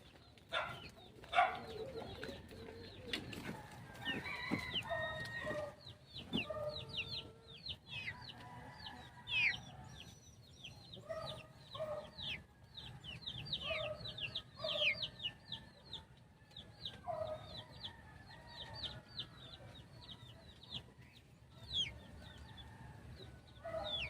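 Shamo chickens, a giant oriental fowl breed, cluck and call continuously on a farm among cages, with several birds overlapping in a busy, moderately loud chorus and occasional crowing.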